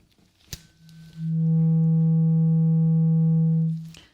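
A steady pure hearing-test tone sounds alone for about two and a half seconds, swelling in smoothly and cutting off cleanly, after a faint click.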